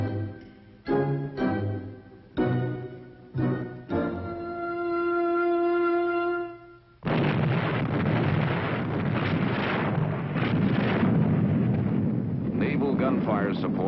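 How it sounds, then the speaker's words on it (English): Naval guns fire on enemy beach positions before a landing: several heavy booming blasts in sequence, then a sustained organ-like tone and a rumbling roar under loud narration. "Naval gunfire support blasts enemy positions on the beach in preparation for the landing."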